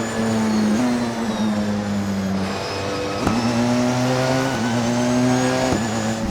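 A race car engine screams loudly in a racing simulator, its pitch rising with each gear and broken by several sharp, abrupt upshifts in quick succession, with no voices over it.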